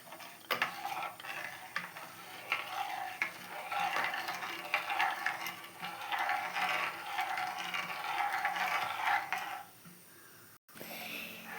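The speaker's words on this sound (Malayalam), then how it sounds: "ഇളക്കി കൊടുക്കാം." Fish curry masala thinned with a glass of water and salted, stirred in a pan: a steady scraping stir over a soft simmering sizzle for about ten seconds, then stopping.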